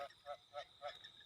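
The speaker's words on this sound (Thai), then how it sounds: "อุ้ยเสียงกบร้องนะครับ" Frogs croak in a rice field at night: four evenly spaced, moderately faint croaks repeat in a steady rhythm over a constant high insect-like drone.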